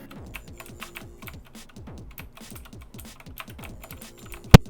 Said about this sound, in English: I have Cherry MX blue switches on it, which are the more clicky,